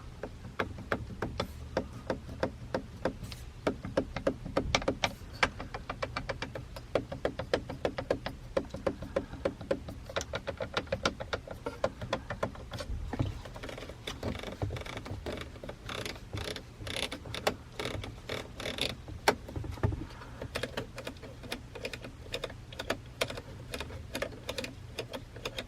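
Dashboard buttons in a 2017 Toyota Camry SE are pressed one after another, giving a long run of quiet, close clicks and taps with uneven rhythm and short pauses.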